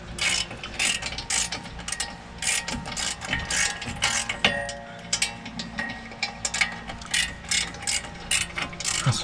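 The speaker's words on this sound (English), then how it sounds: "You can go ahead and start ratcheting it" Ratchet clicking steadily while tightening front brake caliper bolts on a 2014-2020 Nissan Rogue during a rotor change, rapid close-up bursts of ratchet strokes with brief pauses, no talking.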